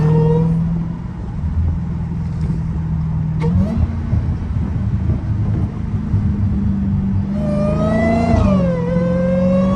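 A loud Dodge Hellcat heard from inside while driving, a deep steady engine drone that climbs twice in short revs, close and continuous with no speech.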